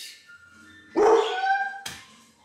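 A dog lets out a single loud, close bark, followed by a shorter, sharper yip, with quiet moments around them.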